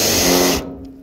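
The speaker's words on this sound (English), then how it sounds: "So this is with the impact driver." An impact driver spins a Spyder Stinger woodboring auger bit into wood, giving a loud, dense, buzzing whir for about half a second before it cuts off and leaves quiet room tone.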